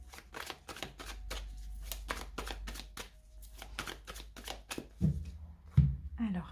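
A deck of tarot cards is shuffled in quick, even, repeated strokes, then cut with a few soft thumps. The sound is close and moderately quiet.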